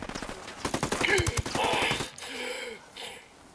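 A rapid burst of automatic gunfire rattles in the video game Ghost Recon Wildlands, with sharp evenly spaced shots for about two seconds before it stops and a voice is briefly heard.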